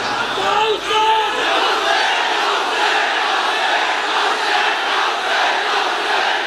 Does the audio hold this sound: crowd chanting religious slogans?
yes